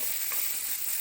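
Chopped onion sizzles in hot oil with mustard seeds and cumin for snake gourd kootu. The hiss is steady and close for a brief moment, with no talk.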